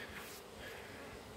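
Honeybees buzz around a mite-infested, failing hive in North Central Wisconsin in early September, a faint, steady, even drone with no pauses and no voices.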